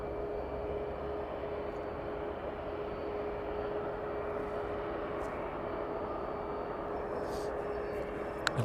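A Ryanair airliner at East Midlands Airport produces a continuous, steady broadband engine roar, a distant, even rumble with a faint constant whine, holding at an unchanging level throughout.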